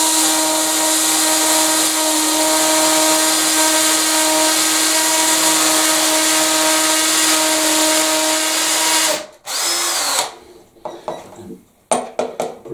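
A power drill whines loudly and steadily for several seconds, drilling into a solid brick wall, then stops, followed by scattered clinks and taps.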